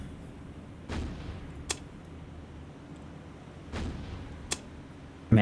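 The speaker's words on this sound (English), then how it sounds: "Guns are up. She's firing." Warship guns firing in the naval video game War on the Sea, Battle of the Atlantic campaign: two widely spaced heavy booms, each followed by a sharp crack, over a low steady rumble.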